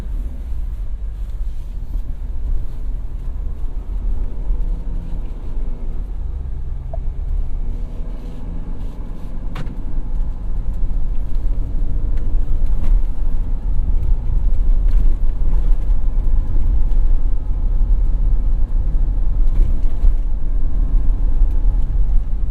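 A 2017 Ford F-250 Super Duty 4x4 pickup drives along, a steady low engine and road rumble heard from inside the cab that builds slightly louder partway through, with no talking.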